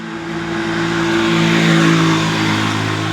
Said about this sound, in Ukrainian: Только починаю знімати, появляється машина.